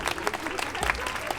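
A crowd at a tattoo event applauds a contest winner, a short burst of scattered claps with crowd noise and a voice briefly audible underneath.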